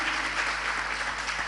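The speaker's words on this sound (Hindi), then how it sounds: "तो एक बार जोरदार उनके लिए तालियां बजा के उनका स्वागत करें।" Audience applause at a religious discourse gathering, a dense steady clapping from a crowd lasting under two seconds.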